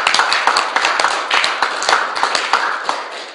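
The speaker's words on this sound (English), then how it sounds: "Everybody give Joyce a round of applause." Room audience at a Toastmasters club meeting applauding after a speech evaluation, a loud, close, dense round of clapping with individual sharp hand claps popping out, sustained steadily with no talking over it.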